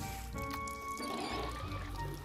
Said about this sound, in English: What happens if you flush a rainbow poop?